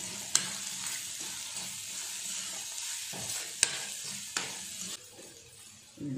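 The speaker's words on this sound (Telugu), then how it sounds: "ఇంకొకసారి కలుపుకుందాము." Curry being stirred in a pan over heat, with a spoon scraping and clattering against the metal in several sharp knocks over a steady frying sizzle; no one speaks.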